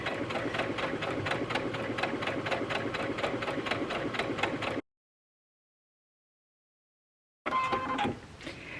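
A sewing machine fitted with a blind hem foot stitches a hem, a steady rapid mechanical chatter running close and loud, stopping abruptly into silence for a few seconds, then starting again briefly.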